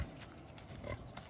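A pig grunts on a farm, low, rough snorts scattered through a short stretch with faint outdoor background noise.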